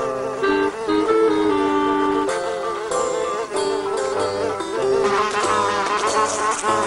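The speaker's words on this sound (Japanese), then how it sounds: "ハエの動きは不規則で素早い。" A housefly buzzes erratically in a 2000 Japanese TV commercial for Earth Jet insecticide spray, its whine mixed with backing music.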